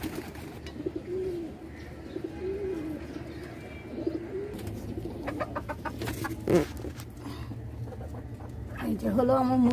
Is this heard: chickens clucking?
yes